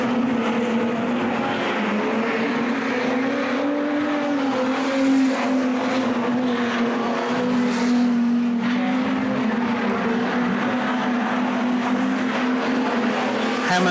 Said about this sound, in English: Hammond continues to be the quickest car on the racetrack